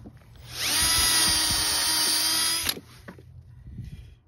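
A power drill whines loudly for about two seconds, cutting into wood with a steady high-pitched buzz, then stops abruptly amid faint background noise.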